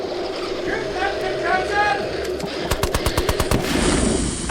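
A Vickers machine gun fires a rapid burst of about a dozen evenly spaced sharp cracks at a Goliath remote-controlled bomb in a tabletop Bolt Action battle, coming after a stretch of background rumble and chatter.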